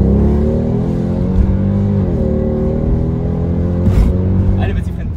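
Mercedes C63 AMG accelerating hard, its engine droning loudly and steadily from inside the car with a rising tone, while people talk over it.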